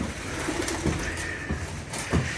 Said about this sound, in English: we've got pigeons in here